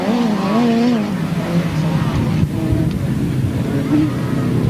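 Grasstrack sidecar motorcycle engine revving hard at a 1997 grass track race, a continuous rising and falling buzz under an announcer's running commentary.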